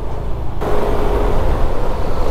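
Congested road traffic, heard by a delivery rider stuck in it, forms a loud, steady rumble of engines and road noise with no talking.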